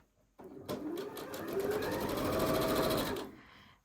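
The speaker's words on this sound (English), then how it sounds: "I do straight line sewing." Sewing machine running a straight line of stitches joining quilt binding strips, a close, steady rapid whir and clatter for about three seconds before stopping.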